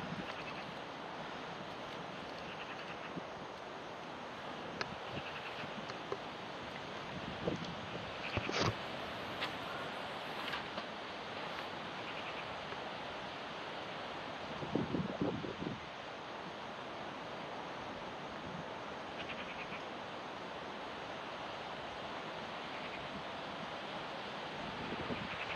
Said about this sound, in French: Il y a du vent du nord, Mistral.